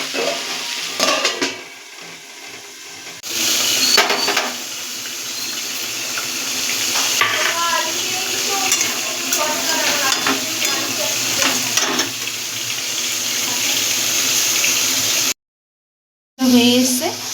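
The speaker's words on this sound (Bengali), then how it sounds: "দিয়ে এটাকে নাড়াচাড়া দিয়ে দেবো।" A spoon stirs fish-oil kundli frying in a pan with turmeric added, making continuous scraping and sizzling up close while a voice talks over it, before a brief silent gap.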